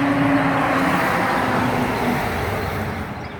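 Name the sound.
road traffic passing by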